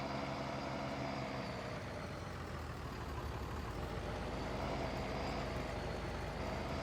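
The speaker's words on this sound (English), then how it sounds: "I don't know if you heard that engine start up" A tractor engine idles and runs steadily in Farming Simulator 19, a continuous low diesel rumble at moderate level with no talking.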